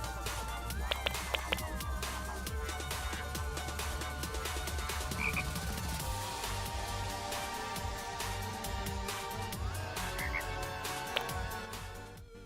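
A frog croaking sound effect from a Godot zombie roguelike video game repeats in short croaks over a busy, steady layer of game music and ambience.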